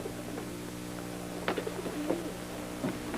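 Pigeons coo softly in a few short, separate calls over a steady low hum, in a scene set where a man keeps his pigeons; no one speaks.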